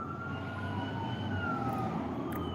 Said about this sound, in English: Hope that's not the ambulance.